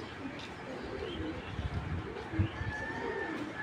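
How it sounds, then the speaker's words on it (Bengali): A male racing pigeon held in hand gives low, soft coos close by against a faint background hum, with a few brief rustles. "রেসার কবুতর।"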